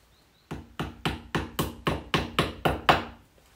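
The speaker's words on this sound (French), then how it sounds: "je mets avec le marteau la finition toujours bien à ras" Nine sharp hammer taps strike wood in a steady, even rhythm while fitting a curtain rod, each a crisp close knock with a short decay, and no one talks.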